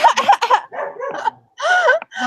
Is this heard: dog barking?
yes